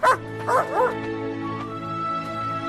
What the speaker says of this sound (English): he returned the dog he called Lieutenant to the old man